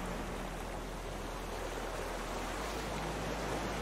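Ocean waves and rough tide in the survival game Raft, a steady broad wash of surf rolling on continuously at even loudness with no speech.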